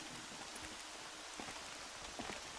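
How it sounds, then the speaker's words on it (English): Steady rain from the video game Horizon Zero Dawn, a dense, even hiss of drops pattering on surfaces with a few louder close splashes, heard alone without any voices. "Rain's not so bad."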